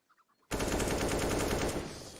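A rapid burst of automatic gunfire from the video game Counter-Strike, played in a professional esports match on the Inferno map, comes in abruptly after a brief quiet moment and stays loud and dense to the end.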